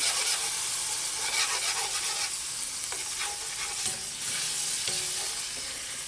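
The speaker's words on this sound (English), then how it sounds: "I'm just going to, again, mix that up a little bit, absorb all of that wonderful juice that was made" Flour, salt and pepper being stirred into sizzling roast pan juices for a Sunday roast, with continuous frying hiss up close and the rhythmic scrape of a spoon across the pan.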